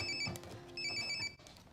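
A telephone rings in two clear bursts of a bright, trilling electronic tone, separated by a short gap. Both rings are moderately close against a soft background, and the second ends abruptly.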